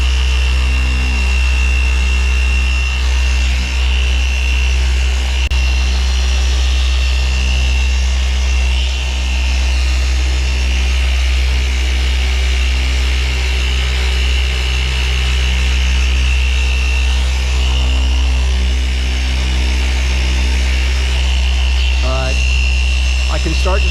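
A machine polisher spins a cutting pad loaded with NXTZEN Cut Master compound against painted bodywork, giving a loud, steady motorized drone with constant tone that holds throughout, with a brief change near the end.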